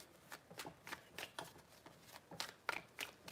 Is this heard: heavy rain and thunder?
no